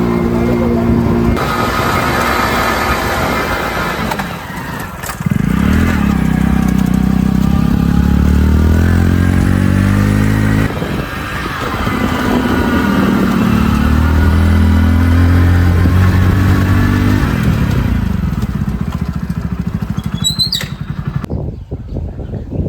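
Vehicle engines climb the road up to Nahargarh Fort in Jaipur, loud and steady for most of the stretch, with repeated revving surges that rise and fall in pitch as the vehicles accelerate up the slope.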